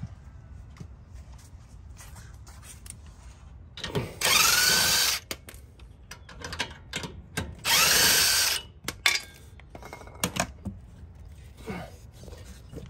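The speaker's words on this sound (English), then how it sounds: "I'm gonna take these bolts out." Power tool backing out sway bar end bolts on a Toyota with KDSS: two loud, close whirring bursts about three seconds apart, surrounded by quieter clicks and handling noises.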